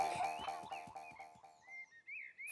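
Cartoon frog croaking in a children's animated show, a series of rhythmic, pitched croaks that slow and thin out, giving way to high whistling tones, clear and alone with no talk.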